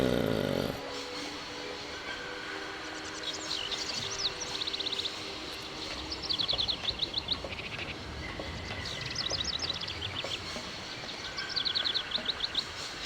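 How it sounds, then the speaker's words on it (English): Birds chirp in a garden in the Syberia video game, with repeated bright twittering calls recurring over a steady ambient bed and no talk over them. "Again, good bird noises."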